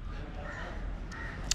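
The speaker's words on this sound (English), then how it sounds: "You hear those crows? They sound so cool." Crows caw in short, faint calls on a city street in Pune, India, just before sunrise, over a low steady urban hum.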